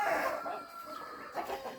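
Chickens in an enclosure, with a bantam rooster crowing in short, moderately loud calls that repeat near the end over soft background noise.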